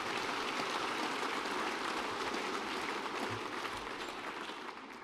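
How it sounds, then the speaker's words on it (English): Sustained audience applause at a UKIP policy talk, a dense and steady wash of many hands clapping that holds level for nearly five seconds before starting to fade. "We'll give them a round of applause."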